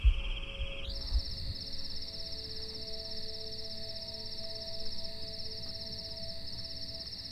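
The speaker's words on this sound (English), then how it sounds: "we've got cicadas" Cicadas in the video game The Last Stand: Aftermath drone with a continuous high, steady buzz that rises in pitch after the first second and holds unbroken over a low ambient hum.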